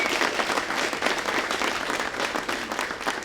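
Dense, steady applause from an audience at a Tamil movie audio launch event, continuous clapping filling the whole stretch at an even level with no voices rising above it.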